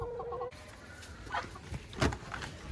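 At a dacha coop, a hen gives a quick run of rhythmic clucks before a sharp cut, followed by faint, scattered clucking and rustling as the hens shift about nearby, fairly quiet overall.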